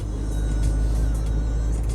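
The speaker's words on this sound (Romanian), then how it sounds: "Mașina fiind foarte mare, foarte grea, uite, cum observați și acum aici, scade în viteză." A very large, heavy car slowing down, heard as a steady, close, low engine and road rumble that holds even throughout, with no talk.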